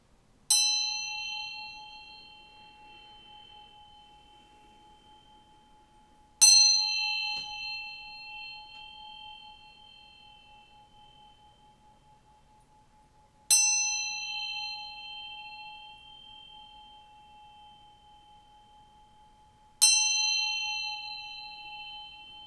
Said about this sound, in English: I'm going to bring in some good vibes here by ringing this bell